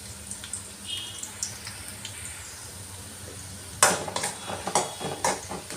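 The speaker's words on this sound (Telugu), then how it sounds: "ఆనియన్స్ అయితే బాగా మగ్గిపోయాయి సో ఇప్పుడు నేను చికెన్ అయితే వేస్తున్నాను" Chicken frying in a pan for a curry over cooked-down onions, a soft steady sizzle with scraping and stirring that turns busier and clinkier partway through, no talking.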